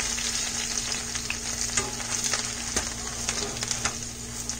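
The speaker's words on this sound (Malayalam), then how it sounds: "ജീരകം ആഡ് ചെയ്ത് കൊടുക്കാം." Cumin seeds sizzle in hot oil for pav bhaji, a dense, steady crackling hiss, close and loud, with sharp pops and a few spoon clicks scattered throughout.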